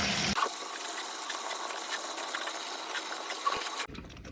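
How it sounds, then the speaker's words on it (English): Cold tap water running over soaked veggie chunks being rinsed: a steady, hissing gush that starts abruptly, holds for about three and a half seconds at close range, then cuts off. "we're gonna rinse it off with some cold water"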